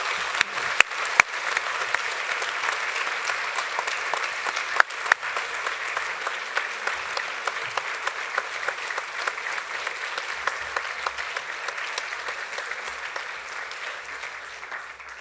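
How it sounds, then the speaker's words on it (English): Steady, dense applause from an auditorium audience honoring West Virginia Golden Horseshoe winners, a continuous wash of clapping lasting throughout with a few sharper individual claps standing out. "a great big round of applause for our newly knighted Golden Horseshoe winners"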